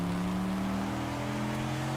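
A car drifts in the Project CARS racing video game, its engine holding a steady, sustained drone throughout with faint tire noise and no voices.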